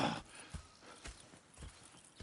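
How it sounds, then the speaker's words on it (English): Horse hooves clip-clop at a slow, steady walk in the Red Dead Redemption 2 video game, a faint, evenly spaced series of soft thuds with no talking. "Go check the horses are ready."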